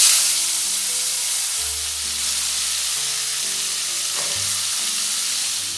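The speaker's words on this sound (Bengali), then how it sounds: "এবারে আলুগুলো ভেজে নেব" Cut potatoes hit hot mustard oil in a pan and fry with a loud, steady sizzle and hiss, opening with a sharp burst that settles into continuous crackling, with no voices.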